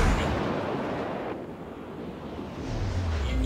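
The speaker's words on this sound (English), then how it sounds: "That is a battleship trying to shoot him." Battleship guns firing in World of Warships, heard as a heavy, rumbling boom that swells, eases off and builds again into a deep roar under a wind-like wash of naval game noise.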